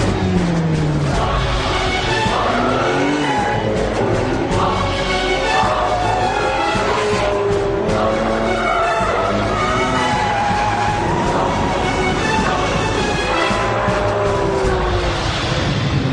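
A Ferrari 599 GTB Fiorano sports car drives hard, its loud engine note rising and falling through gear changes with brief tyre-squeal moments, a continuous close roar without talk.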